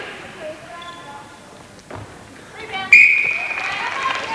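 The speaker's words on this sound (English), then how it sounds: "Fair bit of whistle on the way to that goal." An umpire's whistle at a 1996 national super league netball match, a sharp loud blast cutting over crowd noise and commentary, with a faint earlier whistle and ball bounces in an indoor arena.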